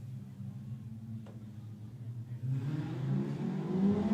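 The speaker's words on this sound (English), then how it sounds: "the cars get ready to come around to take the green flag for the first heat of the Lewin Tyres production sedans" Lewin Tyres production sedan race cars rumble and rev at a speedway before the green flag, engines idling low then swelling louder as the pack builds up, with a brief sharp click early on.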